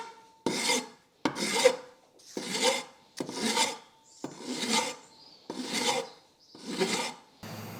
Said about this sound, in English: So now we need to file that off.